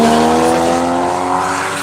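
Loud racing cars roar past with tires squealing, a sustained, close engine drone with steady tonal whine and no talk over it.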